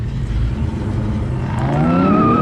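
A car does a burnout, engine roaring loudly before rising tire squeal sets in and climbs in pitch toward the end.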